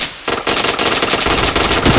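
Rapid automatic gunfire rattles almost without pause in a shooting video game, loud and close, with dense bursts of shots following a brief quiet start.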